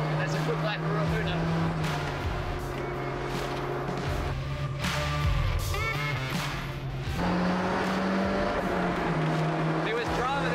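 Race car engine at full throttle in Project CARS 2, pushed hard down the straight at Ruapuna circuit, a steady loud drone with shifting pitch under continuous commentary.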